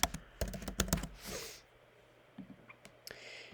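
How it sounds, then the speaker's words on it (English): Quick bursts of typing on a computer keyboard, a cluster of close clicking keystrokes at the start followed by a few scattered taps and a soft sniff-like breath, no talking. "So on the line, I'm going to type scatters."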